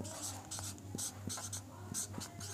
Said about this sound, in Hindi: और इधर मैं लिखता हूँ